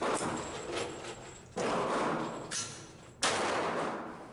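Kimber 1911 pistol with a .22LR rimfire conversion kit firing Federal range pack ammunition at 10 yards, three sharp separate reports with pauses between them, no talk.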